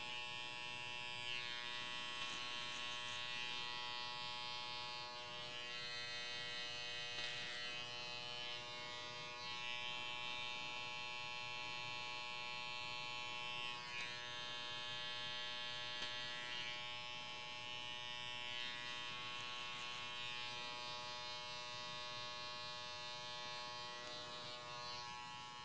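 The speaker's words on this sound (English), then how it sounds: "I'll just kind of work the clipper or the trimmer up underneath" Electric hair clipper or trimmer buzzing steadily and loudly while trimming a man's hair at the back nape, a continuous close motor whine with slight changes in pitch as it moves through the hair, no talking.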